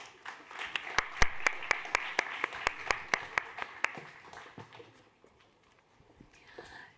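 Audience applause at a startup demo day, heard as a steady run of clapping with sharp individual claps standing out, fairly distant, fading out after about four seconds into quiet room tone.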